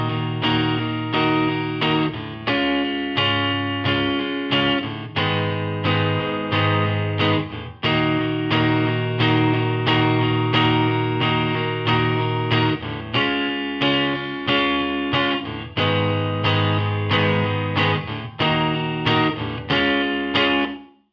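Guitar strumming the intro and chorus chords of a Northern Soul song for eight bars, steady rhythmic chords with a slightly effected tone, loud and alone with no talking.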